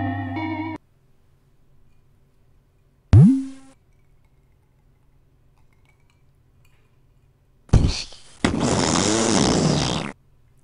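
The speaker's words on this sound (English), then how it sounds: "That was an atomic fart." A cartoon fart sound effect from the video game Panic: a rising squeaky blat around three seconds in, then near the end a loud, sustained sputtering blast lasting a couple of seconds, mixed among other odd game noises and silent gaps.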